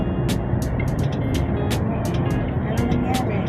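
Riding a bus in Hong Kong: a steady, loud low engine and road rumble fills the space throughout, with sharp ticking clicks scattered over it.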